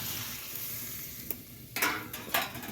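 Fried cauliflower being stirred into a vegetable curry in a pan, a steady close sizzle with a few sharp scraping bursts of the spoon near the end, no talking.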